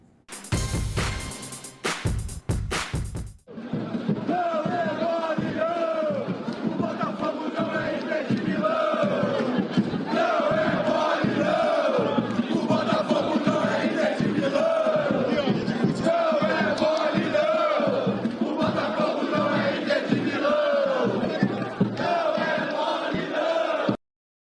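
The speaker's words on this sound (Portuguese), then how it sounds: "Nós vamos fechar esse bloco com o sobe som da torcida do Botafogo." Botafogo football supporters chant together as a large crowd, a loud sustained sung roar with rising and falling voices continuing throughout, preceded by a brief burst of noise at the start.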